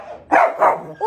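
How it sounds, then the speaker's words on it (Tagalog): A puppy barks in short, loud, close yips, two quick barks followed by the start of a third, with no talk. "wala na nga tigil yung tahol niya"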